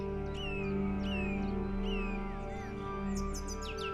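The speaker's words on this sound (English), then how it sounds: "stop knowing that's a nightingale over there?" A nightingale sings from a short distance, repeating sharp whistled phrases and rising chirps several times over a steady low hum of background noise, with a quick burst of trills near the end.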